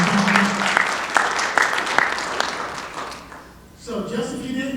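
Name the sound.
applause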